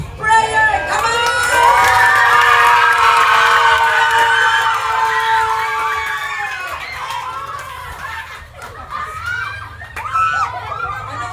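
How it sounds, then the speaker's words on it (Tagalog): A church congregation shouts and cheers together in a loud, sustained roar of voices and whoops that gradually eases off, then swells again near the end. "sumigaw na kayo at magsaya na kayo"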